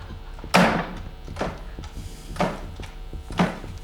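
Knocking on a wooden door during a stage play, four separate hollow knocks spaced about a second apart, fairly loud and close, with no talking between them.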